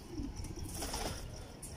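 A pair of teddy pigeons coos faintly in a quiet, hissy room, soft rolling murmurs that end with a brief rustle.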